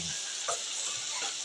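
Paktuol puffball mushrooms cook in a pan with a soft, steady sizzle and faint stirring clicks, close and quiet, with no talking.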